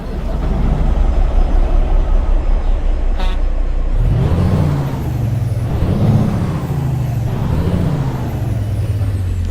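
A Peterbilt 281 truck engine in American Truck Simulator cranks after a short air hiss, catches and settles into a loud, deep diesel idle with a couple of revving swells, heard close up.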